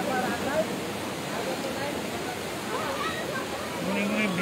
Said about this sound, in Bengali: এদিকে গোমতীর পানি বিপদ সীমার প্রায় 25 সেন্টিমিটার উপর দিয়ে পানি প্রবাহিত হচ্ছে।